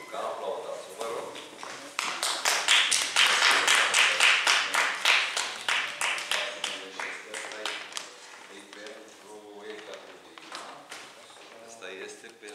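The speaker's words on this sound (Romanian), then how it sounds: "Măriuca, aplaudați-o, vă rog" Audience applause for a girl receiving a diploma at a literary circle meeting in Fălticeni. Dense clapping swells quickly, stays steady and loud for several seconds, then thins out into scattered claps under talk.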